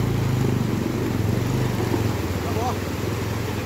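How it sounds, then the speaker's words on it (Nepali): A dirt bike crosses a stream on a rough off-road trail, its engine a steady low rumble under loud wind noise and the voices of riders talking throughout. "रमितले बाइक तार्दैछ"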